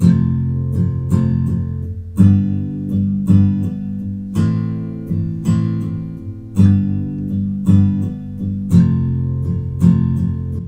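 Enya Cyber-G smart hybrid backing guitar strumming a 6/8 pattern, with steady, evenly spaced chord strums repeating in clear rhythmic groups, played alone and fairly loud.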